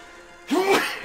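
A single close, loud sneeze bursts out after a brief quiet lead-in, with a sharp intake and explosive release, followed by a short trailing voice.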